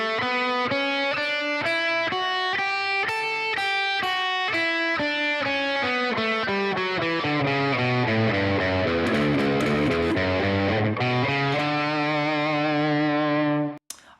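A 7-string electric guitar with heavy distortion runs quickly up and down a CAGED scale shape, one distinct note after another, loud and close, then it is cut off abruptly at the end.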